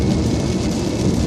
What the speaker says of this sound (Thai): ฝนตกทั้งวันเลยนะครับตั้งแต่เช้าตั้งแต่ออกมาจากกรุงเทพนะครับ